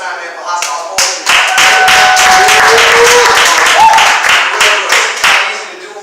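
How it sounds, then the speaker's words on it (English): Audience applause at a comedy open mic: dense, sustained clapping from a crowd that swells after a second and holds steady, with scattered nearby claps and faint whoops over the top. "Y'all clap it up one more time, man, for hostile poetry."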